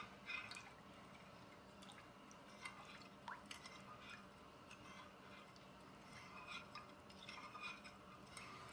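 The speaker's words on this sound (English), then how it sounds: "and then we're gonna mix it." Blue jello mix being stirred into cold water in a container, a soft continuous swishing with scattered light clinks and taps of the utensil, fairly quiet and close.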